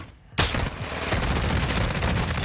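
Gunfire in a multiplayer shooter video game using an iron-sight sniper build, a sudden loud burst after a brief quiet, then dense continuous rapid shooting that fills the rest of the moment, close and intense.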